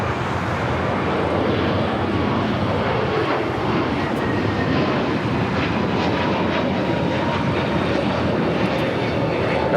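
A Delta Airbus A321neo roars at LAX, a loud, continuous broadband engine rumble holding steady throughout, close and unbroken with no voices.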